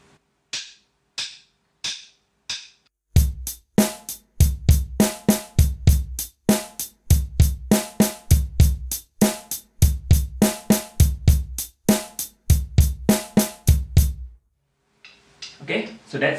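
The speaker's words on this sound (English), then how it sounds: "exercise number 2, is again a basic drum beat, but this time it's in 9/8 time signature." A drum kit plays a basic beat in 9/8 time, opening with a few sharp stick clicks as a count-in, then a steady, loud, close groove of kick, snare and cymbal hits in repeating odd-meter cycles before stopping.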